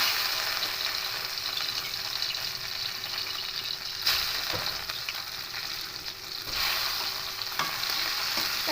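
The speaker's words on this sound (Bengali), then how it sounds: "একটু লাল লাল করে ভেজে নেব" Bitter gourd pieces fry in hot mustard oil, giving a continuous close sizzle with occasional stirring scrapes and a couple of louder bursts partway through.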